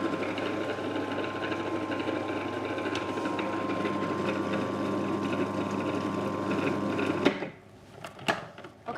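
A food processor blending a plant-based ricotta mixture with a steady loud whirring hum for about seven seconds, then stopping, followed by a few clicks and knocks.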